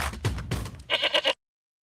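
Goats bleat in a short burst of several quick, wavering calls, close and clear, ending abruptly into silence.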